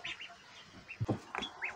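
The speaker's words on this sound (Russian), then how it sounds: "А здесь у меня малыши. Уточки, селезни." Ten-day-old ducklings, all young drakes, kept in a backyard poultry yard alongside chicks, give a scatter of soft high peeps and chirps, faint and intermittent, with no voices.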